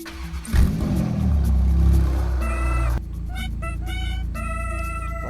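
A revamped Lamborghini Huracan STO in the video game Driving Empire revs loudly up close, a sharp rising roar that peaks and settles into a sustained high-pitched whine, shifting tone partway through with no talk.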